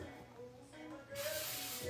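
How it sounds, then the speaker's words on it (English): Baking spray with flour is sprayed from an aerosol can onto a brownie pan, a broad hiss that starts partway through and runs steadily to the end, close and fairly loud, with a voice heard beforehand. "we're gonna take our baking spray with flour."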